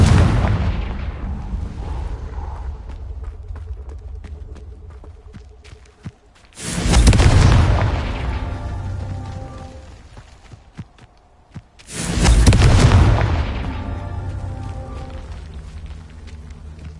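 Confringo blasting spells go off in Hogwarts Legacy as three loud, close explosions a few seconds apart. Each one is a sharp burst with a deep rumbling tail that slowly dies away.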